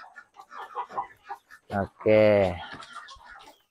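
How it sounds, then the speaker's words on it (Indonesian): A laying hen clucks in a loud burst up close, following a run of short, softer clucks and calls, with a person greeting the bird briefly in the background. "Punya ayam petelur kalau nggak salah."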